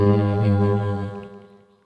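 A buzzy, metallic tone rich in harmonics drones with a robotic ring-modulated quality from a Zoom RFX-2000 vocal effects unit, then slowly fades away.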